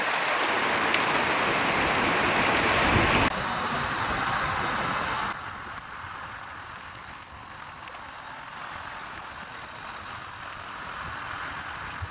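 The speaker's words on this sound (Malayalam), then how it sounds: "നല്ല മഴ കേട്ടോ" Heavy rain falls steadily in the forest near Sabarimala, a dense, loud, even hiss of downpour that drops a step in level partway through and continues evenly.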